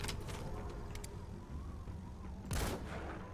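A sniper rifle shot in the video game Metal Gear Solid V, one sharp burst near the end over a steady layer of game ambience and distant noise.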